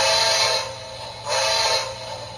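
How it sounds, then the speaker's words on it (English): Horn of a Lionel HO scale toy train from an army hospital train set, sounding two sustained tonal blasts with a brief dip between them, loud and close with no talking. "This horn's amazing. Sounds better than some of my O gauge trains that I got."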